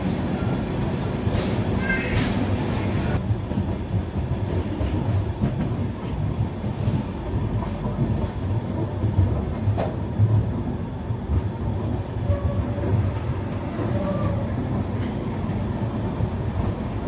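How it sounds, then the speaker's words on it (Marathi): Train 11097 Poorna Express from Pune to Ernakulam running at speed after leaving Miraj at night, a loud continuous rumble of wheels and carriages with faint rattles and squeals throughout. "मिरज रेल्वे स्टेशनवरून निघाल्यावर आपली ट्रेन काय जबरदस्त स्पीडने चालत आहे"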